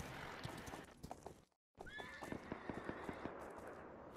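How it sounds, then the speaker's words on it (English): A horse whinnies while hooves clop steadily in a rhythmic gait in the video game Rust, broken by a brief moment of silence, with a busy game-like mix underneath. "It's a fine looking horse you got there."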